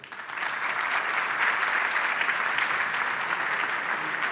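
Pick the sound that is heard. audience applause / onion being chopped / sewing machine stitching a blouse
audience applause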